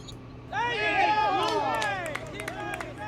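A burst of crowd noise swells up suddenly, a babble of many voices with shouts and chatter that stays loud for a couple of seconds before thinning out.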